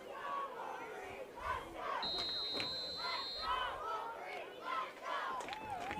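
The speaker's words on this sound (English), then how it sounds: "You can hear the crowd here" Spectators at a youth under-12 football game cheer and shout as a crowd, a broad steady roar with scattered yells and a brief electronic tone, mixed with play-by-play commentary.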